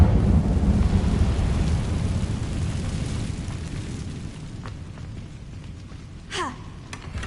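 The Incendio fire spell in Hogwarts Legacy on PS5 erupts with a deep, rumbling fiery roar that slowly dies away, ending in a short bright magical flare.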